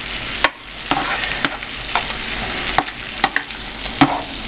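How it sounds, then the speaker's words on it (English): Browned ground beef with added tomato sauce stirred in a pan for pizza burgers, a steady close sizzle broken by regular spoon scrapes roughly every half second. "I just added the tomato sauce. You stir it together"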